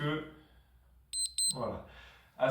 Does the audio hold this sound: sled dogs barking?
no